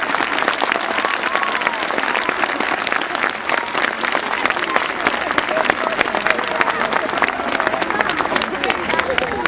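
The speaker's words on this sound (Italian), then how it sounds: "Un grande applauso." Sustained applause from families at a school living nativity, with a crowd clapping densely and steadily throughout, and voices faintly mixed in beneath.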